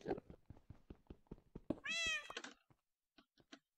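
A cat in the Minecraft FTB Infinity modpack gives a clear, close meow, a long rising-and-falling call with a short follow-up, set among quick rhythmic clicking game sounds.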